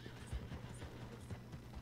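A horse in the video game Red Dead Redemption 2 runs off with rapid soft hoofbeats, and whinny sounds come through faintly in the background.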